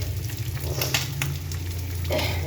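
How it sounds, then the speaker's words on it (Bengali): Fish frying in a pan of hot oil while a papaya curry is being cooked, a steady, close sizzle with a constant crackle and no voices. "আমি মাছ ভেজে নিচ্ছি।"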